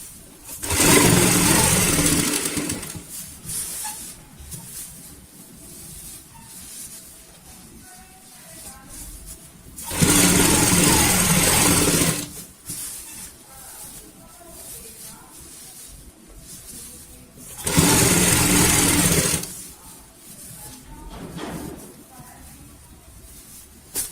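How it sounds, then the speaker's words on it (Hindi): A sewing machine stitches a frill onto a baby bed sheet in three loud, sustained whirring runs of a few seconds each, separated by quieter stretches. "जो फ्रिल अटैच करने वाली सिलाई है, सेम उसी के ऊपर हम यहाँ पे सिलाई लगाएंगे।"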